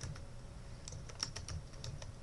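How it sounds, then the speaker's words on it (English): Steady close typing on a computer keyboard while entering a variable name in statistics software, a quick irregular run of soft key clicks with one sharper tap, over a low background hum. "I type that in."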